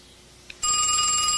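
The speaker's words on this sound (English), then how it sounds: "Answer the phone" A telephone bell starts ringing suddenly partway through, loud, steady and close, following near silence; no one speaks.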